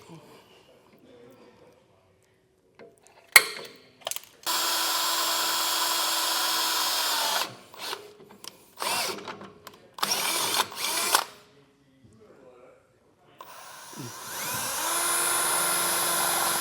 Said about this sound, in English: And now we can drill these holes out